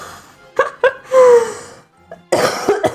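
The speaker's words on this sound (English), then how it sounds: "I'm trying to cough into my sleeve so that I don't transfer my bacteria" A single person coughing into a sleeve while making Polish pierogi dumplings, several close, muffled coughs and throat sounds in short bursts, loud and near, with a brief gap before a final cough.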